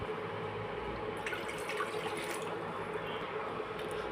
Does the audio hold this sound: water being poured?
yes